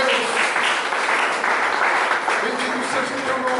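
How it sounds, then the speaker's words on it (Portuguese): Church congregation applauding during a worship service, loud sustained clapping from many people with voices speaking and calling out over it. "Aplaude o nome do Senhor, meu Deus"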